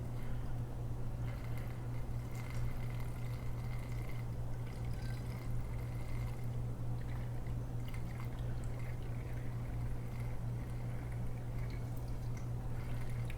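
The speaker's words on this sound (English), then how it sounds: "carefully pour some of the fluid into the loop itself here" EK Red Pastel coolant is poured through a funnel into the reservoir of a PC water-cooling loop with an EK-FB GA AX370 monoblock, making a steady, continuous liquid trickle over a constant low electrical hum.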